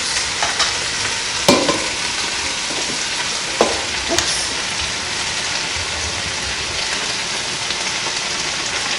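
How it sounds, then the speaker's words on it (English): Vegetables hit a browning pot for Haitian soup joumou, setting off a steady loud sizzle with a few sharp clinks and scrapes of stirring, and no talking. "then we add the vegetables"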